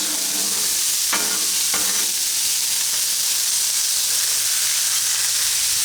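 Onions and carrots fry on a flat griddle with a loud, steady sizzle and hiss, with a couple of brief scraping stirs near the start, close and with no talking.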